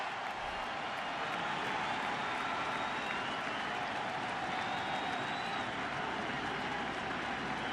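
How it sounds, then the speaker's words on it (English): Baseball stadium crowd at a World Series game cheering to rally behind the pitcher, a dense, continuous roar of voices and clapping that stays steady and loud throughout with no distinct announcer speech. "Crowd trying to rally behind Tomlin."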